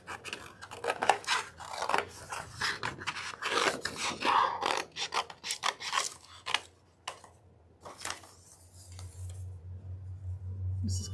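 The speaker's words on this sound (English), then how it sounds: "So there's a butterfly. I'm just gonna cut that out, fussy cut it, and add it to this." Scissors fussy cutting a paper butterfly, a close run of small snipping and rasping scrapes with short pauses, and faint talk and store noise in the background.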